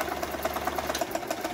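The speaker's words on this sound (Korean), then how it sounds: "윙 하면서 안 가는 이유는 요 실 감기 장치에 놨기 때문에 그렇습니다" A Toyota household sewing machine runs with its bobbin winder engaged, so it whirs without feeding; its motor hum is steady and close, with rapid, regular mechanical pulses.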